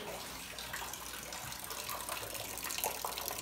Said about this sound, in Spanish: Se está cayendo agua.